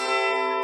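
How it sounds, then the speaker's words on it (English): A concert-size ukulele strung with a low G rings out in one sustained, bright strum whose notes hang steadily and then a fresh brighter attack lands near the end, close and clear with no voices. "This probably is a concert size ukulele with a low G"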